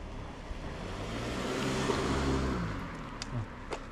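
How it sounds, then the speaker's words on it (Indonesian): A car passes by on a street, a steady engine and tyre rumble that swells toward the middle and fades, moderately loud, with a few faint clicks near the end and no talking. "Ada mobil."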